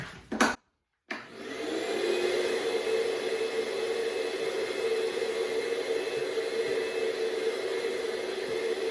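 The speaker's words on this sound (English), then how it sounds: "Vacuum it out." After a couple of brief knocks and a short silence, a vacuum cleaner roars steadily and loudly nearby, sucking wood chips out of a drilled concealed-hinge hole, a continuous whooshing hum with no speech.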